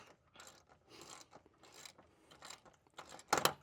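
Ratchet clicking as a clamp is tightened on the engine air filter housing of a 2008 Fleetwood Discovery RV with a 6.7L engine, several close bursts of rapid clicks ending in one louder snap.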